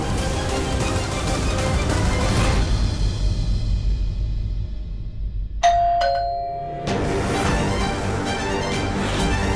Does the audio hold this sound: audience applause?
no